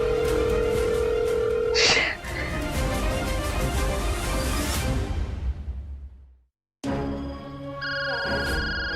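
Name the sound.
phone call coming in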